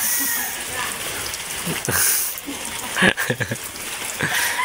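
Rain hisses steadily over everything, with voices talking under it and a few scattered knocks.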